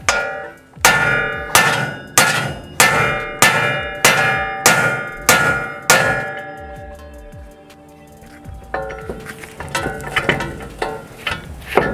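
A hammer delivers about nine evenly spaced, ringing metal blows against a truck's ball joint on a Hemi-powered front suspension being loosened, then gives way to quieter clanking and scraping.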